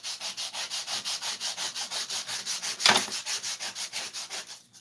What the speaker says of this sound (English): Sanding knife.